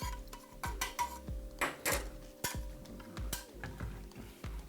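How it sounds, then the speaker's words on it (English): A spoon stirs black Colombian coffee in a cup, clinking repeatedly against the sides in a quick, irregular rhythm, close and fairly quiet. "Give it a stir."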